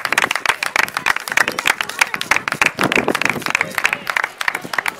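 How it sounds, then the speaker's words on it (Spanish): Spectators clap at an amateur sixth-division football match, quick scattered claps from people nearby, mixed with loud shouting and chatter throughout. "Aplauden, Doña, aquí vamos."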